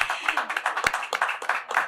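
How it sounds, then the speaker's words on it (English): Audience applause for the minister at a World Economic Forum 2025 session, a fairly sparse round of hand claps at a steady rhythm, moderately close, lasting a couple of seconds. "Let's give the minister a big round of applause."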